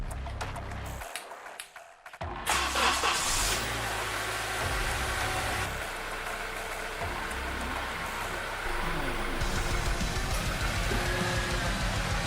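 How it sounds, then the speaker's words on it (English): A 2002 Acura RSX engine turns over after a brief quiet moment, then settles into a loud, steady idle with the air conditioning running at full blast. "We're going to start the car up, put it on full AC,"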